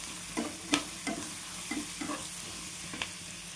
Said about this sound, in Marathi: कांदा पण आपला छान भाजला गेला आहे